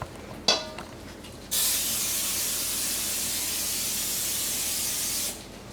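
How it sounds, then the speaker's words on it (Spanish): Cooking spray hisses from a can onto a pan while making keto fish tacos with tilapia, a short tap followed by one steady, close spray burst lasting several seconds before cutting off. "pongo este spray"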